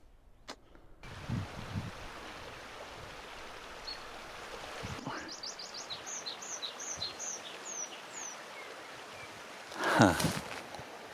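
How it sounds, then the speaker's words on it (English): Outdoor ambience at Dinas Emrys in Wales with a series of short high bird chirps in the middle, steady breeze or distant water underneath, and a louder rustle near the end. "Just birds and sheep in the distance."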